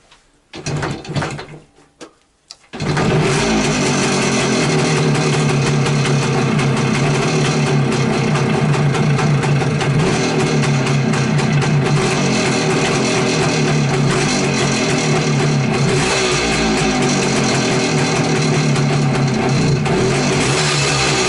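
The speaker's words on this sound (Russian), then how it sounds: "Мотоцикл заведется сейчас." A Voskhod 3M motorcycle engine sputters briefly, then catches and runs steadily and loudly at a rough, throbbing idle for the rest of the clip.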